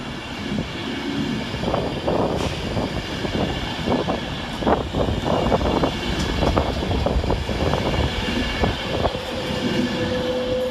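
An Avanti West Coast Class 390 electric train departs Stafford railway station, a steady rolling rumble with wheel and rail clatter that holds for about eleven seconds, with no speech.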